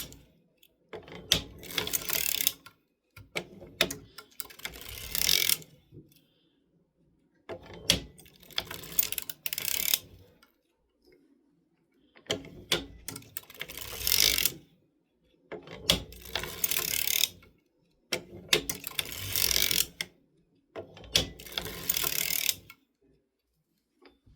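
Circular sock knitting machine cranked by hand while knitting a short scrappy sock: close, clattering ratchet-and-gear bursts, several seconds each, separated by short pauses, with no talking.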